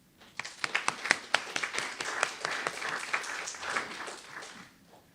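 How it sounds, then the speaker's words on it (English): An audience at a community forum on medical debt breaks into a round of applause, rising quickly from sharp individual claps to a full steady patter, then fading away. "I want you to give them a round of applause"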